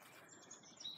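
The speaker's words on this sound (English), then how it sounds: "Birds are all singing" Birds chirp and tweet outdoors in a quiet natural area, faint thin calls over a soft background, with a few brief chirps rising slightly near the end.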